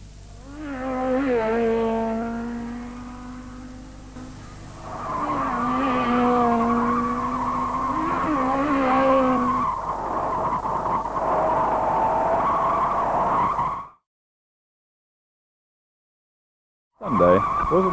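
Formula 3 race cars at Cadwell Park in 1969, with a sustained tire squeal and engine whine as cars slide and spin, loud and mid-distance, before a brief silence.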